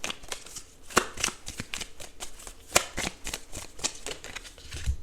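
Tarot cards being shuffled and drawn, a rapid run of dry papery riffles and flicks with a few sharper snaps, close up and fairly quiet, no voices.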